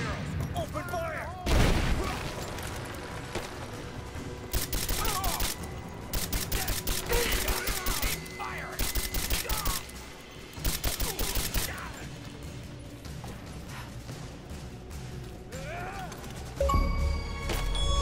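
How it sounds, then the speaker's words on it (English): Bursts of gunfire from the video game Rise of the Tomb Raider, loud clustered volleys and rapid fire coming in waves over a steady background, with a voice speaking at times between the shots. "Open fire!"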